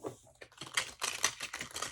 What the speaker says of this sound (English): Let's get a shuffle and see how it shuffles